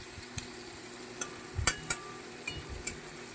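Fish and whole spices fry together in a pan at home, a soft sizzle underlying faint stirring scrapes and a few light utensil clinks, fairly quiet and close, with no voices.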